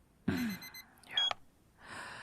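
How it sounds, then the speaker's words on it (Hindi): An alarm clock set for 12:30 at midnight goes off in a quiet room with a few short electronic beeps in bursts, close by, and soft rustling and movement between them. "I was practicing तो मैंने अलार्म सेट किया था."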